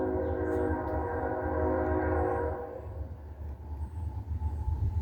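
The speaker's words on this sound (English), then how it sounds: "Yeah, trains go through here, this tiny little town." A train rolls past in a tiny town, a loud steady rumble with horn-like tonal bands for the first few seconds, then easing into a rougher, fading rumble of cars going by.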